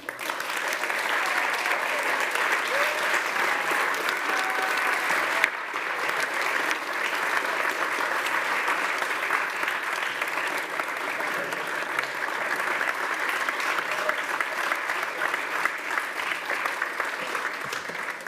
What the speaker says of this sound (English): thank you very much for keeping that applause going